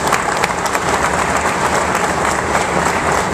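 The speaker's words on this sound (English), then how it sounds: "let's give them a round of applause" A crowd at a Rio Tinto Alcan investment announcement gives a sustained round of applause, loud, dense and even throughout with no voices over it.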